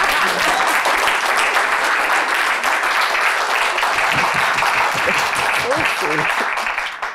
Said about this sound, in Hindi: तालियां ज़ोर से बजाई